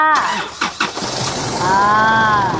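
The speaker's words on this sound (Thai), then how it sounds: "พี่ไปสตาร์ทรถ" A car engine is cranked and catches, a short starter whir followed by the engine firing up and settling into a steady idle, heard close, with a voice talking near the start.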